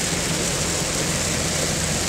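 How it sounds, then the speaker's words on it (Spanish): Heavy rain pours down steadily during a drive back from Tafí, a dense, loud, unbroken hiss filling the whole moment with no talking. "Qué manera de llover, por Dios."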